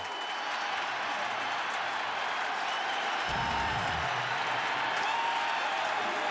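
A steady roar of cheering and applause from the stadium crowd at a 2005 Florida State vs. Clemson college football game, dense and continuous, with a brief low rumble partway through.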